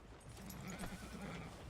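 A horse whinnies and snorts in Red Dead Redemption 2, a steady nearby neigh running over a low rumble of hooves and ambient game sound, with no talking.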